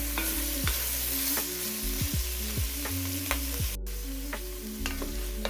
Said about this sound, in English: So I'm just gonna continue to let this cook and stir around until my shrimp loses all its pink color.